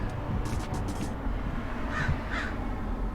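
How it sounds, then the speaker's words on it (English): A crow gives two short bursts of harsh cawing, one cluster of calls after another, fairly close against a steady outdoor background hiss. "Caw, caw, caw."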